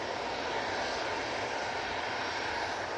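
An EasyJet airliner at Manchester Airport, a steady broadband roar of jet engines heard from a distance, constant and alone without voices.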